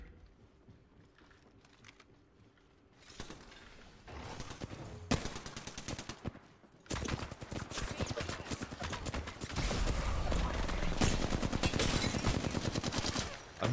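Gunfire rattles in the Apex Legends video game, starting with scattered shots and building into long, dense bursts of rapid automatic fire that grow louder and more sustained.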